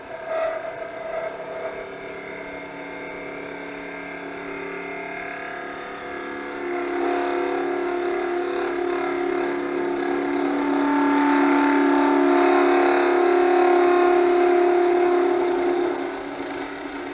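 A skew chisel takes a final cut on a wood lathe turning a mallet handle, a steady whirring scrape that swells louder midway and holds, then eases off at the end.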